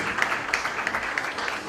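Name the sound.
audience applause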